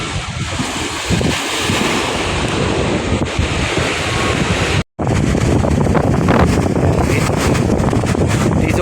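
Surf on Manila Bay after a run of storms rolls in continuously, loud and close, with heavy wind buffeting the microphone throughout and a brief dropout midway.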